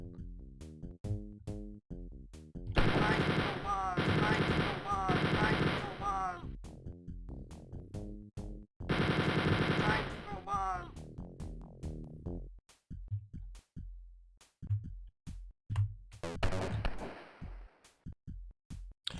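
Enemy gunfire in Wolfenstein 3D: repeated sharp retro game shots with bursts of rapid automatic fire, loud and close, broken by short pauses and quieter single shots.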